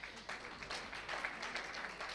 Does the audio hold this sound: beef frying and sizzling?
no